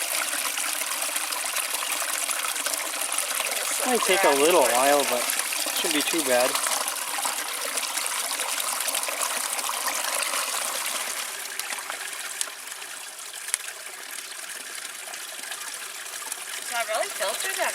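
A mountain stream on a backpacking trail near Mirror Lake in the Porcupine Mountains rushes steadily and loudly close by, a constant watery roar with people talking over it.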